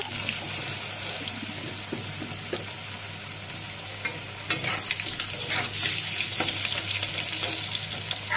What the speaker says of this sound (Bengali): প্রথমে আমি এখানে আলুটাকে একটু ভেজে নেব।